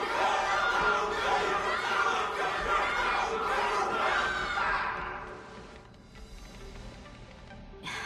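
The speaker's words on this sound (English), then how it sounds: "Can't you hear? Everyone's cheering for you, Luka!" A crowd cheering in the Honkai Star Rail video game, a dense, loud wash of chattering voices and chants that fades to a quieter murmur near the end.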